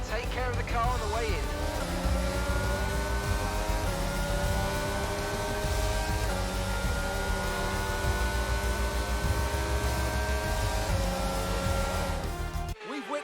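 F1 race car in the F1 22 video game at Interlagos, Brazil, with a steady high-pitched engine whine that rises and falls with gear changes, loud and continuous, while a voice talks over it.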